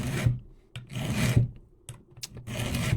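A hand file rasps across a chainsaw chain tooth in several slow, even strokes, each a gritty scraping burst with short pauses between, close up and alone.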